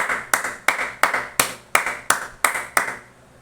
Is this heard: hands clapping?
yes